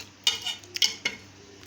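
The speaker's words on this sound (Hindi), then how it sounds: "इसको अच्छी तरह मिक्स करेंगे।" Chicken karahi mixed in a metal pot: a few quick scraping, clattering strokes of a utensil against the pot, fairly close and loud, with no voices.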